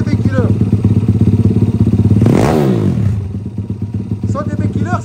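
An Xduro 160 motorcycle running without its dB killer silencer: a loud, close, throbbing exhaust note that swells in a quick rev and then settles back to a rough idle.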